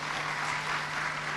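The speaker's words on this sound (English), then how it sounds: "Give her another round of applause." A brief, steady wash of audience applause at a World Food Day event, a fairly soft clatter of hands lasting only a moment.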